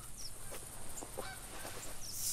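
Geese honking in the hunting game theHunter, with a Labrador retriever nearby: a few short, faint honks scattered over a low steady background, distant and quiet, with no voices.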